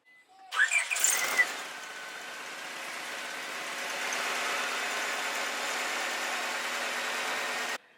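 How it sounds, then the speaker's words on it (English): A 4-cylinder engine in a 1998-2002 Honda Accord cranks briefly and fires up, then settles into a steady, fairly loud idle heard up close. "So let's start the car and see what happens."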